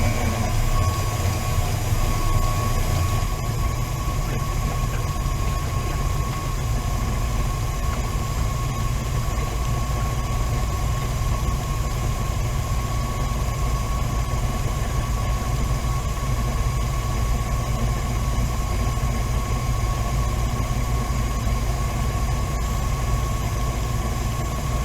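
An electric mixer beats old-fashioned pound cake batter in a bowl, giving off a continuous, even motor hum and whir that runs without a break.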